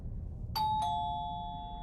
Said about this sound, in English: The doorbell chimed, echoing inside the home.